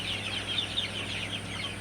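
Sonali super hybrid chickens, 41 days old, on a farm at dusk, give a steady chorus of soft, high clucks and chirps. Nobody speaks, and a low hum runs underneath.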